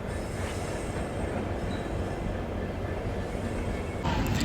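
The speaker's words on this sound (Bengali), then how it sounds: "এনজিপি স্টেশনে ঢুকে যাচ্ছে আমাদের উত্তরবঙ্গ এক্সপ্রেস ট্রেন" Uttar Banga Express, hauled by a WAP-7 electric locomotive with sleeper coaches, rolls into NJP station. A steady, close rumble of wheels on track runs throughout and grows slightly louder at the end.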